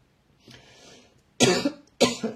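Two sharp, loud coughs in quick succession, preceded by a softer breathy throat sound, close to the microphone.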